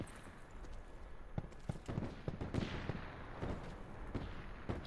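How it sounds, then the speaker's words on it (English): Gunshots crack repeatedly from behind on a hill in a video game. The irregular, fairly faint reports come with thumps and footsteps over a steady background rumble. "We got shots behind us on the hill."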